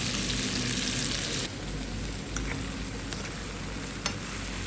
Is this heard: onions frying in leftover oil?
yes